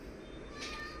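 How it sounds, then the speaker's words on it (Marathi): A domestic cat at home gives one short, faint meow just past the midpoint, set against a low, steady indoor background. "आणि आपली माऊ"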